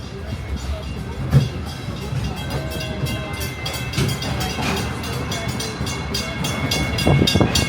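Walt Disney World Railroad train at Magic Kingdom rolls into Frontierland Station, a steady rumble with faint clanks heard onboard, while crowd chatter and a narrator's voice run underneath.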